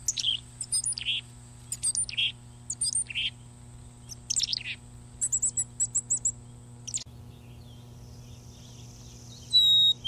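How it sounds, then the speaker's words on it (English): Bursts of high, thin chickadee calls and garbled notes, repeated in quick clusters, fairly close over a low steady hum, then a brief pause. "one chickadee chases another from the bush and then gives an outburst of high notes and garbled calls"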